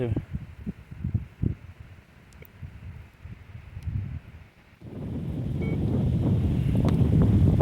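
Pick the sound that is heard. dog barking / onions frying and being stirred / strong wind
strong wind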